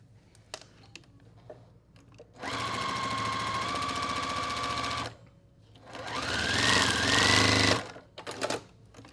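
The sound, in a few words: sewing machine sewing quilt block with 1/4 inch seam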